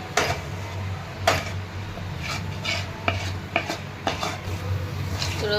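A spoon stirs a thick coconut barfi mixture with milk powder in a pan, making repeated scraping clinks and soft scrapes against the metal over a low, steady hum.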